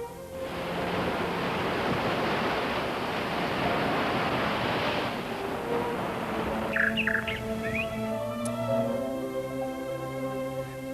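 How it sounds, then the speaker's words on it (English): Waves break on a beach and against cliffs along the shore, a loud rushing surf that fills the first several seconds, then eases as birds chirp and sing nearby, with no voices. "Gentle waves ripple by the beach melodiously, and big waves beat upon the cliff at the shore"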